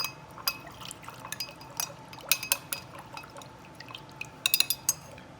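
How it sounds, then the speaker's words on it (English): A syrup drink stirred in a glass, bright irregular clinks and taps of a spoon against glass over faint liquid swirling, close and alone. "Make sure you get that syrup in there. And then give it a good stir."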